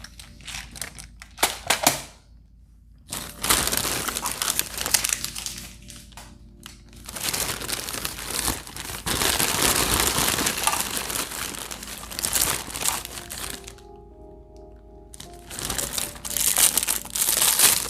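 Plastic packaging from a Shein nail art haul crinkles and crackles up close in repeated handling bursts, separated by brief quiet pauses.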